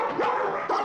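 Two quick, sharp dog barks close to the listener, the second following after a short gap, loud and alone with no talk.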